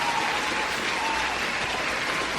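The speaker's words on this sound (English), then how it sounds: "Let's do a little round of applause there for Shane." Steady applause from a crowd, a dense continuous wash of clapping held at an even level throughout with no pauses.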